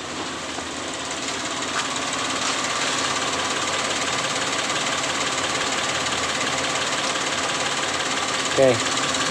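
A Karimun Wagon R car engine idling at about 750 RPM with heavy vibration, a steady close rumbling drone with a rattling texture that holds throughout, with a brief knock near the end.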